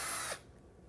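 A power drill spins briefly at high speed while removing screws from a heating element cover, then stops abruptly, leaving a quiet low rumble.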